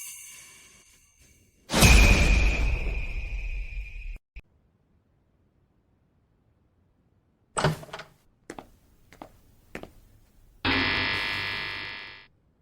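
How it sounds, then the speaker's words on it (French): An intruder alarm goes off in harsh electronic buzzing bursts. A long blare is followed by a few clunks and clicks, then a second loud, steady buzz cuts in and stops abruptly. "Alarme. Quelqu'un s'introduit par effraction."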